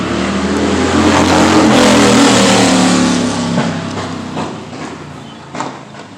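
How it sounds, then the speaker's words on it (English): A motorcycle revs hard and speeds past on a neighborhood street, the engine roar loud and rising at first, then fading into the distance with a few faint knocks afterward. "That's a prime example of guy on motorcycle needs to slow down."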